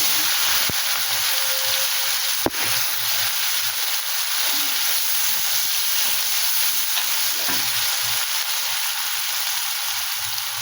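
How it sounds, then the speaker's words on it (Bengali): Cumin seeds and two chillies sizzling in hot oil, a loud, dense, continuous hiss with a single sharp clack early on, close up with no talking. "এবারে আমি দুটো লঙ্কা দিয়ে দিলাম, এতে জিরে ফোড়ন দিয়ে দিলাম"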